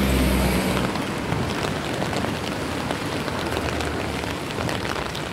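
Heavy rain pours down in a dense, continuous hiss of drops striking surfaces, loud and close, with no voices over it.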